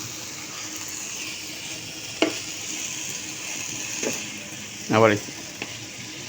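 Vegetables roast in a pan for a diet lunch, with a steady, moderately loud frying hiss and a few stirring scrapes. A person speaks a single word partway through.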